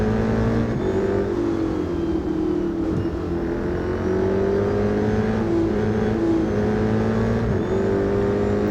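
A Ford Shelby GT500 revs in the Real Racing 3 video game from the cockpit view, a loud and constant engine drone whose pitch shifts as the revs rise and drop.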